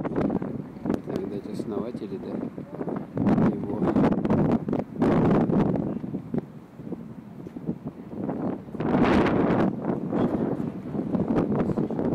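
Gusty wind buffets the microphone in loud, uneven roaring bursts in Minsk's historic center, with voices talking underneath.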